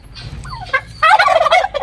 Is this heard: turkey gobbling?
yes